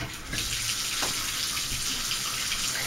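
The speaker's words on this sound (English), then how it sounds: "I'm going to fill up the water, and I'm going to let the tub fill up with water" Tap water gushes steadily into a bathtub being filled for washing clothes by hand, a continuous close hiss and splash without speech.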